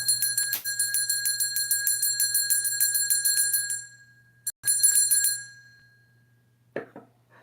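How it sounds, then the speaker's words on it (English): A small bell is rung rapidly in a continuous tinkling trill for several seconds, pauses briefly, rings again, then fades out, bright and close with a low hum underneath. "Ring the bell."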